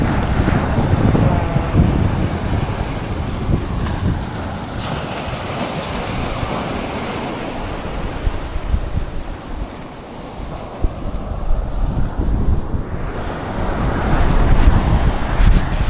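Rough sea surf at Farquhar Beach, a black-sand fishing point in Clarendon, Jamaica, with waves crashing continuously and strong wind buffeting the microphone, loud and close, with no voices.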